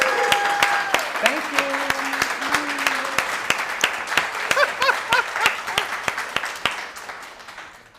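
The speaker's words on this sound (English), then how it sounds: "can I give you a round of applause?" Audience applause after an artist talk, steady crowd clapping with distinct sharp claps, while people speak briefly over it and it gradually fades.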